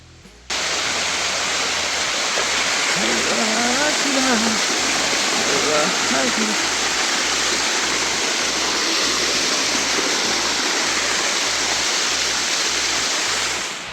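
Steady, loud rushing roar of a waterfall at Malamalkkavu in Palakkad, constant broadband wash throughout with brief voices talking faintly underneath early on.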